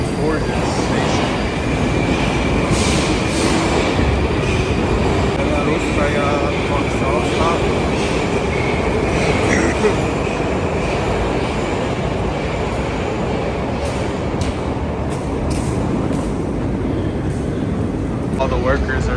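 A Moscow metro train in a station, heard as a loud, steady rumble and rolling hum that continues throughout, with a faint whine and crowd noise mixed in and voices talking in the background.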